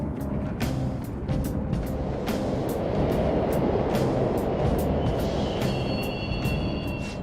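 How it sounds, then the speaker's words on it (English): Subway train rumble in Persona 5 Royal, a steady loud low drone of running cars with sharp rail clicks and a faint high squeal near the end, no talk. "The trains are totally running!"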